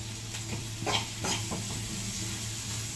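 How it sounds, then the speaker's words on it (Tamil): Onions sauté in a pan with a steady, close sizzle, broken by a few scraping stirs of a utensil against the metal, fairly loud and without talk. "எல்லாத்தையும் போட்டு நல்லா வதக்கி விட்டுக்கலாம்"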